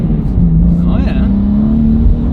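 BMW G87 M2 with BMS intakes revving, a rising and falling engine note with a whooshing intake sound, close and loud, with people talking over it.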